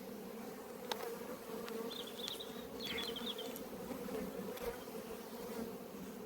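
Honeybees buzz around an open hive at an apiary among buttercups, a steady low droning hum with faint birdsong and small clicks over it.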